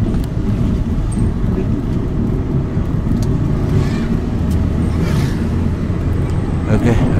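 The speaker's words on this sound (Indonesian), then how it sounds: "Ini ada mobil." A car passes on a rural road in Lalebata village, Lamuru district, Bone regency, heard as a steady loud broadband road rumble throughout, with faint talk underneath.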